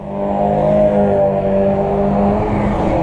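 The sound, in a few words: Honda H'ness CB 350 motorcycle engine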